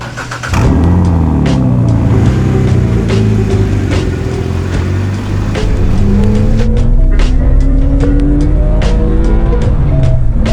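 A project car pulls away on a drive after a drive shaft repair, its engine loud and close, revving and rising in pitch through several gear changes.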